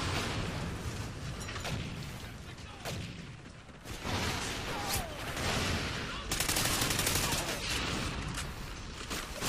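Gunfire in Call of Duty Ghosts, scattered bursts and rapid shots at moderate distance, fairly quiet and blended with background game noise, a heavier flurry toward the end.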